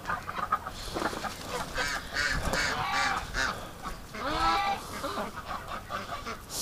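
A flock of geese honks continuously nearby, overlapping calls rising and falling in a busy, noisy chorus.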